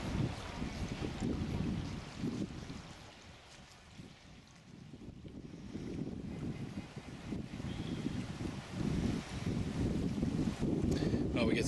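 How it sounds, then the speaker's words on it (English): Strong wind gusting across a hilltop lakeside campsite with tall trees, a steady low roar that swells and dips, buffeting the microphone, with some talk underneath. "the wind picked up really strong here at our campsite"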